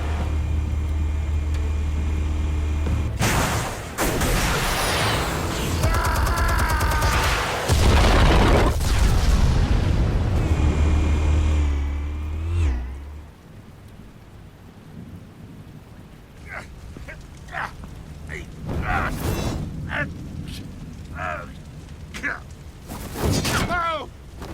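Explosives detonating in Batman The Telltale Series game, loud booming rumble and crashing debris for the first half, then quieter scattered impacts and sharp hits.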